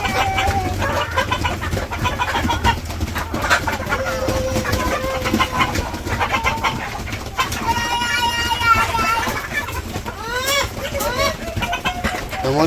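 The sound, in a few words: chickens eating and clucking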